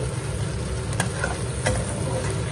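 Eggplant and potato frying in oil in a pan, a steady close sizzle with a couple of sharp scraping stirs, no voices.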